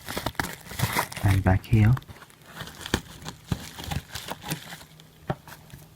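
Crinkling and tearing of packaging as a blade cuts into the box of a 1980s Bandai TVJack 5000 console, close-up irregular crackles and scrapes, with someone talking briefly.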